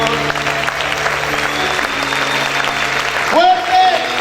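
A church congregation applauds in a steady wash of clapping beneath sustained tones and a voice, which rise more prominently toward the end.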